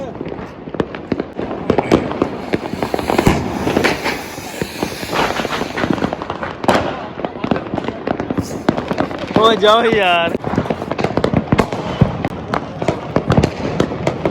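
Diwali firecrackers go off in a dense, continuous crackle of sharp bangs, with a whistling rocket rising midway. People talk nearby throughout.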